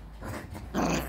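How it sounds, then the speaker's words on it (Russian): A chihuahua growls playfully and continuously at close range, the rough growl swelling louder and harsher near the end of the short burst, with no talking over it. "дочка ее научила играться так и гавкать"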